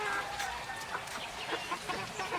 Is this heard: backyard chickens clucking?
yes